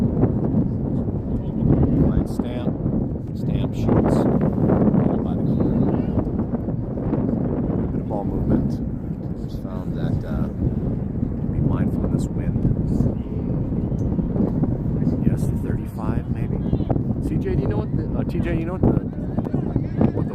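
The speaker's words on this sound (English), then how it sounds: "Okay, it's windy." Gusty wind buffets the microphone at an outdoor youth soccer match, a steady low rumble of close, loud buffeting that runs throughout with voices mixed underneath.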